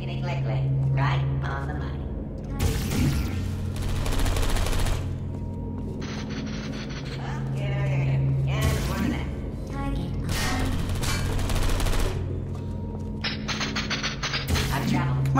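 Portal 2 turrets firing in a training simulation, with repeated rapid bursts of sputtering gunfire against a steady low hum and mechanical clanks, loud and close throughout.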